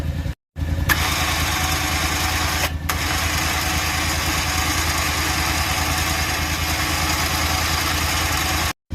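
Motorized winch spooling in a synthetic winch line outdoors, operated by remote: a steady, loud mid-pitched motor whine running continuously after a brief pause near the start, with another short break partway through.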